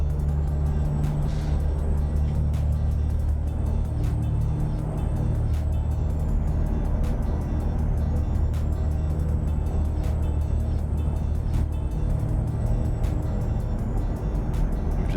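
Steady, loud truck engine drone from American Truck Simulator, continuous for the whole stretch, with faint regular clicks and a slight shift in pitch that may come from gear changes. No talking.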